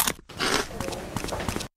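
Crisp crunches of Potabee V-cut zigzag potato chips with roasted seaweed bits being bitten up close, a dense burst followed by several short crackly bites.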